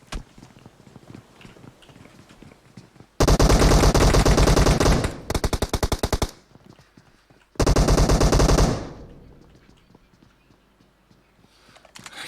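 Automatic gunfire in PUBG Mobile, two long, loud, rapid bursts with a short choppy volley between them, separated by quieter stretches of faint background movement.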